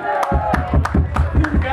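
A festival crowd at an outdoor May holiday event claps and cheers for a band, loud rhythmic claps landing in regular beats over a shouting, cheering crowd.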